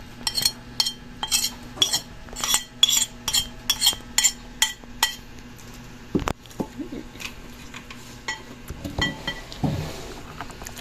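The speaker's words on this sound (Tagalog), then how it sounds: "imimix na po ni mama yung ating sardines dito po sa ating kamoting kahoy" A spoon clinks and taps rhythmically against a bowl as sardines are mixed into grated cassava, then gives way to softer stirring, scraping and a few thuds.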